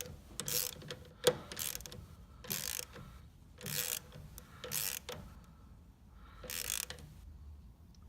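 A ratchet clicks in repeated short bursts while bolts are tightened on the head of an R2020 pump during a rebuild, close and fairly quiet, with pauses between strokes.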